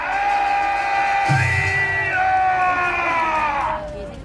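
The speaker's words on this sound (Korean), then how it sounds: "이 애국 시민에 대해서도 큰 박수 한번 해주시기 바랍니다" A large outdoor political rally crowd at Gwanghwamun, Seoul, whooping and cheering loudly in a sustained roar of voices that carries on for several seconds before easing off at the end.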